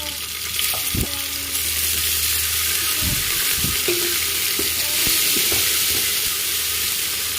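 Onion and tomato sauté in a pan for a bitter gourd curry, with a loud, steady sizzle and hiss throughout and several sharp scraping knocks of a spoon stirring against the pan.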